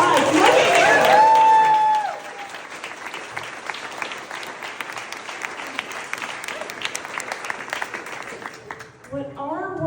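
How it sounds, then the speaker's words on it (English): Crowd applause at a campaign launch speech, loud at first with a brief tonal squeal, then settling into steady, moderately loud clapping from many hands before fading as a voice returns at the end. "Please give yourselves a round of applause."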